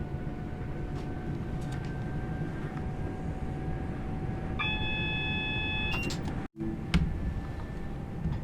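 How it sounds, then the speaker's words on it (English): A diesel multiple unit on the Glossop Line from Manchester to Hadfield in the Train Sim World video game, a steady low engine and rail rumble with brief cab warning tones and a short dropout. "And we can get the train going up to 45 miles an hour."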